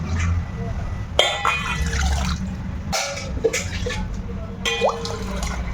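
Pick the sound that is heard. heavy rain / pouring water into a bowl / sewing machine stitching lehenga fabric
pouring water into a bowl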